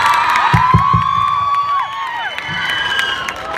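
Loud crowd of students at a college farewell stand-up comedy show cheering and whooping with dense applause, a few sharp claps and shouts standing out near the start, steady throughout.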